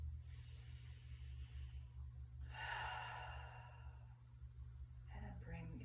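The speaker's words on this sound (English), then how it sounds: "And take a full breath." A full inhale during a shoulder yoga exercise, a faint breathy draw of air through the mouth heard twice against a low room hum, followed by a soft voice.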